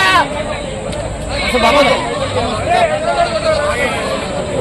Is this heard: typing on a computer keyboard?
no